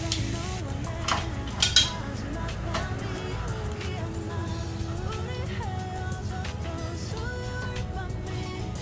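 Cutlery scraping and clinking against a plate while roast beef is sliced, a few sharp metallic taps early on, then soft continuous scraping under a steady background hum.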